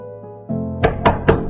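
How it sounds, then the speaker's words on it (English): Knocking on a wooden door in a dramatized story: three firm, evenly spaced knocks ring out clearly and close, following a low background tone. "Another knock, harder this time."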